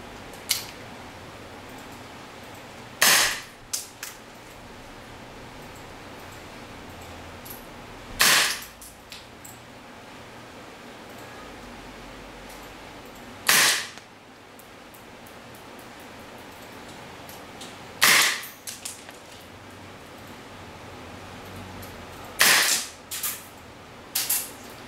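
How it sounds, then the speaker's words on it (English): An airsoft gun powered by a CO2 cartridge fires .2 BBs at a test bench: six sharp, close single cracks spaced several seconds apart, with faint hiss between shots. "And now we use .2 BB and CO2 cartridge to test the FPS."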